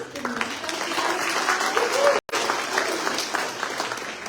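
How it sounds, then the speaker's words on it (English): Sustained applause from an awards-event audience, dense steady clapping that carries on throughout with a brief cut midway, voices faintly audible under it. "while we're still clapping and keeping it going"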